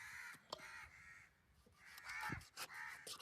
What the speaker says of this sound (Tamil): காக்கா சவுண்ட் கேட்டுருச்சு.